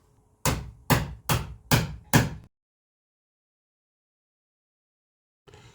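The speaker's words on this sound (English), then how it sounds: "what I'm doing is taking the chisel and cutting the grooves in just a bit to make that little opening in the corner" Five firm hammer blows strike a chisel cutting grooves into a door corner, evenly spaced in a quick rhythm and close, followed by silence and a faint noise at the end.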